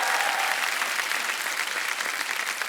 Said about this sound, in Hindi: ये तालियां इस बात का गवाह है।